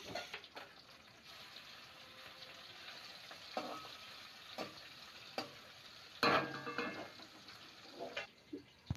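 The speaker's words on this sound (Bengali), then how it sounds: "এই মাছগুলো এবার ভেজে নেব একে একে সমস্তগুলো" Hilsa fish pieces frying in a pan, a steady soft sizzle with occasional louder crackles and spatters, one sharp burst near the end, no voices.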